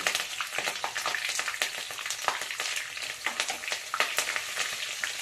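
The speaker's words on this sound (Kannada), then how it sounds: "ಜೀರಿಗೆ ಸಾಸಿವೆ ಸ್ವಲ್ಪ ಚಟಪಟ ಆಗಲಿ. ಇವಾಗ ಸ್ವಲ್ಪ ಕರಿಬೇವು ಹಾಕೋತಾ ಇದ್ದೀನಿ." Cumin and mustard seeds crackle and spatter steadily in hot oil, with curry leaves sizzling in. The popping is dense and close, with no voices over it.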